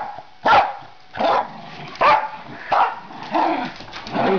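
Several dogs bark in loud, repeated bursts about every half second to a second while romping and playing tug of war outdoors, with occasional yips mixed in.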